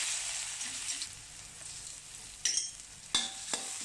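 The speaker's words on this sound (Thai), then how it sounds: "ใส่น้ำมันลงไปสักประมาณ2ช้อน แล้วก็เอาสามเกลือนะที่ตำไว้มาผัด" A pounded garlic, coriander and pepper paste stir-fries in oil over low heat with a faint, steady sizzle, broken by a few sharp scrapes of the spatula.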